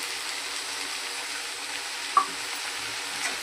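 Water spinach (kalmi shak) with salt, turmeric and sugar fries and is stirred in a pan: a steady close sizzle with one sharp clink of the utensil midway, and no voices.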